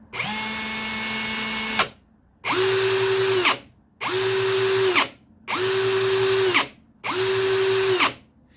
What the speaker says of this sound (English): It works, it drills, it hammers.